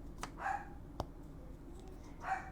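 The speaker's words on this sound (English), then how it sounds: "excuse the dog, he is going insane." A dog barks a few times in separate short bursts, fairly faint and set back in a quiet room, with a sharp click between them.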